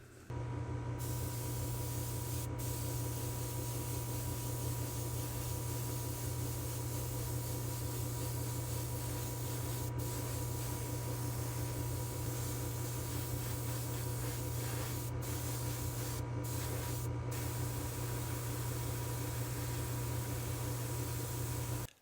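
Degreaser sprays onto a Hot Wheels '56 Ford Ranch Wagon body inside a spray booth: a long, steady, close hiss over a constant low hum.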